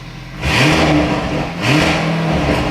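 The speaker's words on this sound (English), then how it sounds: "Give it a rev." A rebuilt Lamborghini Urus engine revs twice, each blip surging quickly to a loud roar before easing back to idle, with the two revs about a second apart.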